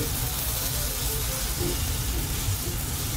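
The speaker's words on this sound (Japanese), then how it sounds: "少し音が変わってきて、この水分が弾ける音がしてきたら混ぜ始めます" Sliced mushrooms fry in oil in a pan, a faint, steady broadband sizzle with scattered small pops of moisture throughout.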